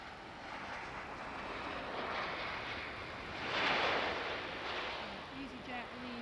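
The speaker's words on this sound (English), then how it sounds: "EasyJet leaving" An EasyJet airliner departs Manchester Airport, its broad engine roar swelling to a peak and then fading into the distance as it climbs away, with wind noise and faint background sounds underneath.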